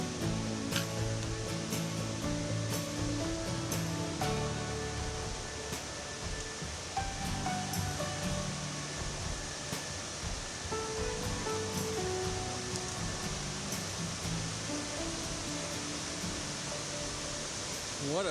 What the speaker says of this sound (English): I finally made it to the base of Whitewater Falls.